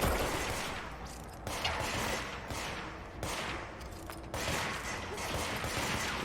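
Rapid enemy gunfire in the action game Control, a dense continuous rattle of shots that surges and dips over several seconds, loud and close with no talking.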